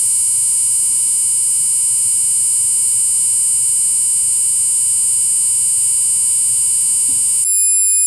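A steady 1 kHz switching tone from SiC MOSFET power electronics drones continuously with bright, shrill overtones over a low hum, then cuts off abruptly just before the end.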